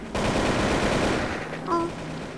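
Burst of automatic AK rifle fire in the online shooter game Truy Kích: a dense, continuous rattle of rapid shots, loud and close, lasting over a second before cutting off, with brief tonal game effects at the end.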